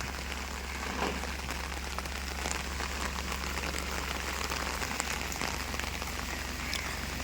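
Steady rain falls outdoors on lush greenery, a dense continuous patter of drops on surfaces with no pauses.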